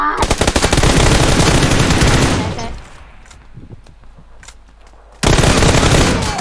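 Rapid automatic gunfire in the PUBG Lite video game, loud, dense bursts filling the first seconds, a brief lull with scattered distant shots, then another loud burst.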